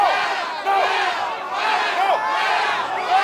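A rowdy wrestling crowd at an NWA event in Mexico City roars and chants in sustained loud waves, with rising and falling shouts across the arena.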